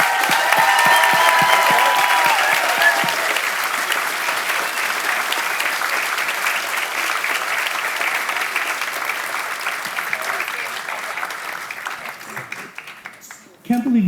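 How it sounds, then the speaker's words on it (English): Sustained loud applause from a large audience at a community awards gala, with clapping and some cheering filling the room almost continuously before cutting off abruptly at the end. "will you please join me in giving the loudest round of applause that you can for this group"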